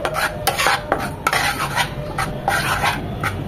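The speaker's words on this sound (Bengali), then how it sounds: "খুব ভালোভাবে 4 থেকে 5 মিনিট ময়দাটাকে কুক করে নেব বাটারের সাথে।" A spoon scrapes and stirs flour cooking in melted butter in a pan, steady repeated strokes with sharp clinks against the metal, close and clear.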